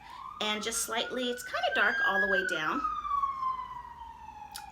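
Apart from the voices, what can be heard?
emergency vehicle siren passing outside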